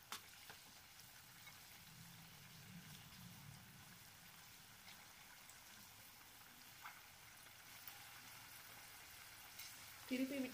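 Potato pieces frying in hot oil for a Tamil potato fry, a steady soft sizzle that stays low and even throughout, with faint stirring noises near the end.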